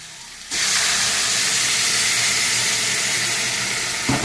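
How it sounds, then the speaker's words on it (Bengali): Hot water poured into a simmering vegetarian vegetable curry sets off a sudden loud, steady broadband hiss and sizzle that starts abruptly and holds evenly for several seconds, with no voices. "এর মধ্যে আমি জল দিয়ে দেবো, গরম জল।"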